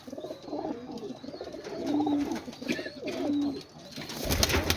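Pet pigeons coo on a rooftop in Rawalpindi, with repeated soft, throaty calls close by and a brief burst of louder noise at the very end.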